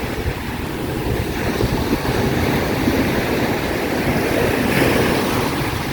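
Sea waves washing onto the shore at the seaside at seven in the morning, a steady broadband surf roar with soft swells and some wind, continuous and fairly loud.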